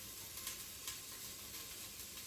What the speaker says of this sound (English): we want to fry the ginger. So just add the ginger here.